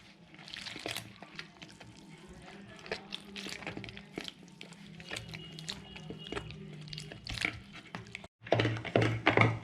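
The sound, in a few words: mixing cornflour and maida batter with water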